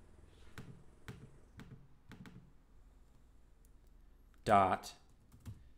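Computer keyboard typing comes as a few quiet, evenly spaced clicks, followed by a short spoken word and one last tap.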